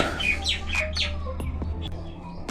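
Bird calling close by, repeated chirps and squawks over a steady low indoor hum, with no talking.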